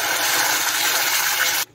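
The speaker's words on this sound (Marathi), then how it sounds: "पाणी आहे, ते टाकून घ्यायचं।" Water pours into a cooking pan in a steady rushing hiss for under two seconds, then stops abruptly, close and fairly loud.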